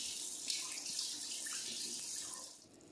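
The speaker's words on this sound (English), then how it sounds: "So I'm going to run it under some hot water" A thermometer rinsed under hot running tap water while making divinity candy, a steady close hiss of flowing water that stays even throughout and eases off slightly near the end, with no talking.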